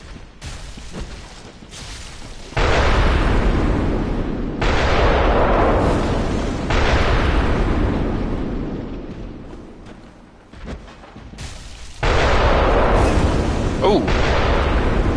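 Heavy cannon blasts in the Bloodborne Chalice Dungeons, several loud broadband booms with long rumbling decays, spaced irregularly, with spoken commentary and game noise running underneath.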